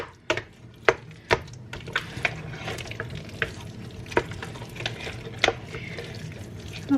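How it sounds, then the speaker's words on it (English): A knife cuts up butter for homemade mashed potatoes in a home kitchen, giving a string of sharp, irregular taps against a board over a faint background hum. "I'm going to cut up the butter a little bit"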